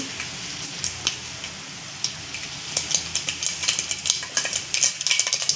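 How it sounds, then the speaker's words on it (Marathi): Mustard seeds crackle and sizzle in hot oil in a pan next to a pressure cooker on a gas stove, with sharp pops that grow more frequent toward the end over a steady frying hiss. "आता तेल गरम झालं आता मस्त मोहरी टाकायची"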